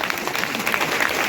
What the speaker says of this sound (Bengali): জোরে মারো ছোট তালি